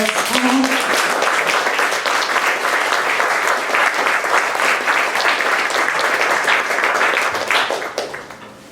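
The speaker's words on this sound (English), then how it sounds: "Can we have another round of applause?" Steady, full applause from an audience at a poetry prize event, continuous dense clapping throughout before tapering off at the very end.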